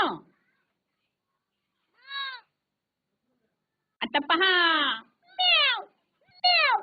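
A voice imitates a cat in a Marathi children's lesson, giving a series of drawn-out meows: one short call, then a longer cluster and two more, separated by silence, with a few spoken words.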